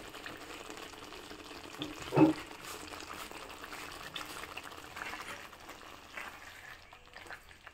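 Palak paneer sizzles in a spoonful of pure ghee, a soft, steady frying hiss at low volume with one brief louder crackle or stir, and no talking.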